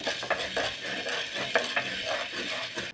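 Pirandai (adamant creeper) dry-roasts in a pan, a spatula scraping and stirring it in repeated strokes with a faint crackle, close and alone with no voices.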